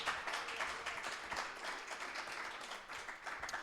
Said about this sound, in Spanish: Ahora aplauda al Señor.